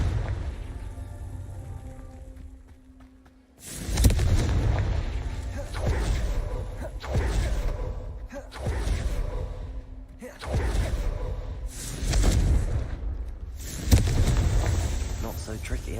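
Confringo blasting spells from Hogwarts Legacy burst in a rapid series of five or six loud booming explosions after a quiet start, each with a whooshing crackle, and a voice speaks briefly between the blasts.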